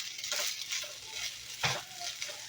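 Rice fries in a pan with a soft continuous sizzle, broken by a few spatula scrapes and stirring strokes, close and fairly quiet.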